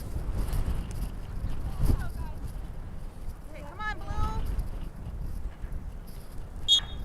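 Strong gusty wind buffets the microphone at an outdoor soccer match, a steady low rumble rising in surges, with a commentator talking over it and faint distant shouts.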